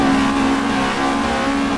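A car engine in the racing game Assetto Corsa revs hard and steadily in VTEC, a loud sustained buzzing drone with a harsh high-pitched whine, continuous with no talking.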